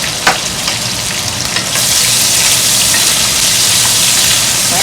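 Garlic and onion frying in a pan, a loud, steady hiss of sizzling oil that swells partway through and holds, with faint stirring clicks early on.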